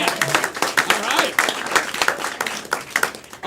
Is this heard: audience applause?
yes